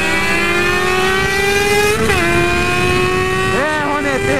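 A Honda Hornet and a Yamaha FZ6 motorcycle accelerate hard, one engine climbing loud and close in pitch, dropping briefly at a gear change and then rising again, with a second rev burst near the end.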